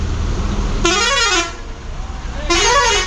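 A bus horn sounds twice in loud, wavering blasts over a steady rumble of heavy rain and idling traffic at a roadside meal stop.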